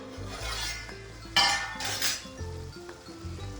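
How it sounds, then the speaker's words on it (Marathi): A metal lid is lifted off a cooking pot of vegetables with a sharp clink and a few lighter clatters of cookware, quiet and close, with no talk. "आपण झाकण काढून बघूया."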